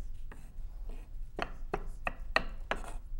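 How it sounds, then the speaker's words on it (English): Garlic cloves chopped with a knife on a cutting board: a slow series of six or seven crisp, distinct knife strikes, close and fairly quiet, with soft rustling between them. "get your garlic chopped really well, which I'm doing right here"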